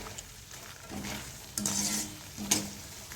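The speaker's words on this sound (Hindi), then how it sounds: "तो मखाने को भी हम अच्छे से फ्राई करेंगे ताकि ये भी बहुत ही अच्छी तरह से क्रिस्पी हो जाए।" Makhana (fox nuts) frying in hot oil for Diwali chivda, a constant soft sizzle broken by three scraping strokes of a spoon stirring through the pan.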